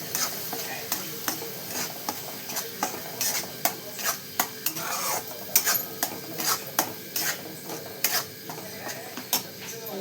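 A spoon stirs garlic, onion and tomato paste into chicken masala in a pan, giving repeated scraping clicks against the metal over a soft, continuous sizzle.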